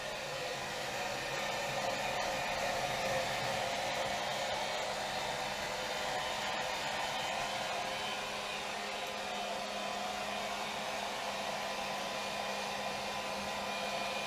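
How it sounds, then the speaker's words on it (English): Heat gun shrinking Monokote covering on a model airplane wheel, a steady, close, breathy blowing hiss that holds constant without a break. "Actually doing the heat shrink on the second side."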